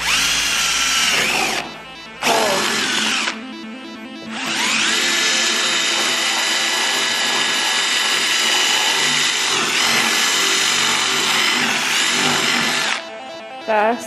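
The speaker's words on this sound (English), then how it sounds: "I'm just gonna have to drill out the hole or replace the tab" A power drill whirs loudly in long bursts, drilling out a hole in a car bumper, briefly stopping twice and restarting, its motor pitch shifting as it bites into material.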